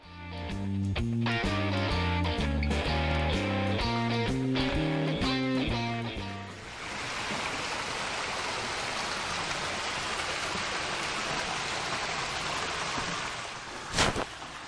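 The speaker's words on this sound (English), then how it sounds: "I guess it's a waterfall." Music plays for the first few seconds, then gives way to a steady, broad rush of a waterfall on Great Barrier Island, New Zealand, continuing to the end.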